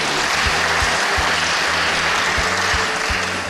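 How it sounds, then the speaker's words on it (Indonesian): Loud, sustained audience applause at an Indonesian state independence-day reception, a dense wash of clapping from a large crowd with a low rhythmic thump beneath it, continuing steadily throughout. "Tepuk tangan dulu untuk Indonesia."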